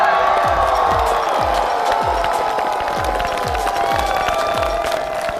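A studio audience at a comedy stand-up show in Changsha bursts into sustained cheering and applause to welcome a comedian to the stage, with loud, continuous clapping and whoops throughout.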